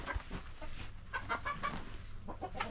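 Several chickens clucking steadily in a heated coop tunnel on a frigid farm morning at minus 26 °C, their short calls close and overlapping with no talk.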